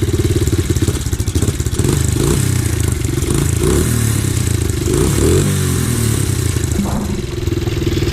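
Close and loud, a Red Kat 90 pit bike engine runs with a buzzy, rattling exhaust, its revs rising and falling in several throttle blips over a constant metallic clatter.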